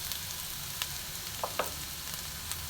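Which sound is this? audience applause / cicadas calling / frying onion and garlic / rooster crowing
frying onion and garlic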